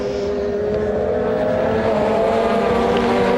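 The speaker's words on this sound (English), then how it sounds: "A couple of the Seats filing through in mid-order" Several 2007 WTCC touring cars, including SEATs and a Chevrolet, roar past at speed on the Brno circuit in the Czech Republic, their engines blending into a loud, sustained, droning wall of sound with no talk over it.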